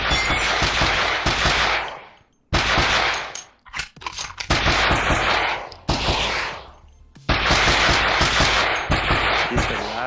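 Rapid pistol gunfire in a video game, dense bursts of loud repeated shots broken by short pauses, with sharp crackling impacts throughout.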